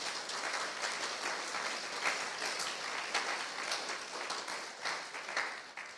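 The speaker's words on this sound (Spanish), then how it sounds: "Démosle un aplauso al Señor por ese amor" A church congregation claps together during a sermon, a steady wash of applause holding for the whole stretch at a moderate, somewhat distant level, with no voices over it.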